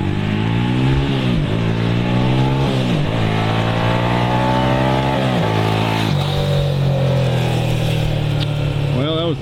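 A 1987 Yamaha SRX 250 motorcycle rides past on a gravel-strewn scenic road, its single-cylinder engine loud and close throughout, rising and falling in pitch with several gear changes and throttle swells.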